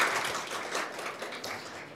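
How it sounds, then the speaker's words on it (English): An audience at a children's coding event applauds steadily for a young participant, a dense, even wash of many hands clapping at moderate loudness throughout, with no talk over it. "Come on, everyone, round of applause for Adam."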